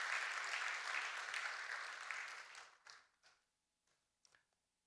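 A church congregation at a Thanksgiving Sunday service claps warmly in welcome, a few seconds of full applause that then thins out into a handful of scattered last claps.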